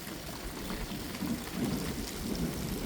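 Thunder rumbles low and heavy through steady rain during a thunderstorm, the downpour hissing on surfaces throughout with deeper rolling swells midway, nearby and fairly loud.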